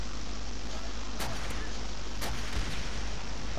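Gunfire in Call of Duty: World at War, two or three muffled booming shots over a constant loud hiss of game noise.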